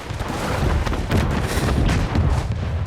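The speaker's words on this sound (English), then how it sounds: "This is such a beautiful sight when you see all the cannons firing at once" Massed naval cannons of a fleet firing together in the strategy game Anno 1800, a dense, continuous rumble of overlapping booms and blasts rolling on for about three seconds at steady loudness, with no talking.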